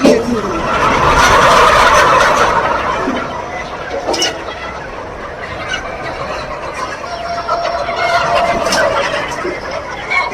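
About 2,600 free-range chickens, hens with some roosters, cluck and chatter continuously inside a farm shed in Pakistan, a loud, dense flock din with occasional sharper calls rising above it.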